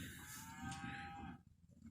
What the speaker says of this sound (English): 14AY, one of Brooks' old show cows